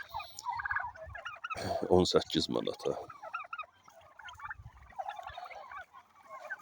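Roosters and hens raised for sale call and cluck nearby in a yard, with repeated squawks and a louder burst of crowing in the middle, while a person talks over them.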